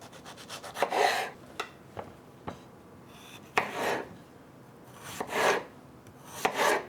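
A knife cuts slices for a burger, several separate close rasping strokes with short sharp taps between them on a board, irregular in timing, with no voices.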